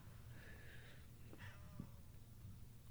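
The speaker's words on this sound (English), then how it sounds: "Do you hear him meowing?" A house cat meows indoors, two soft, fairly faint drawn-out cries with a short sharper sound between them, set against steady room noise.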